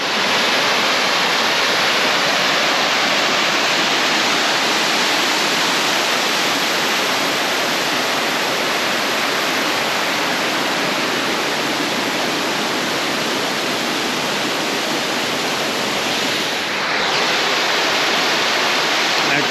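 Erskine Falls cascading in a steady, loud, full-bodied roar of falling water, continuous and close throughout with no voices.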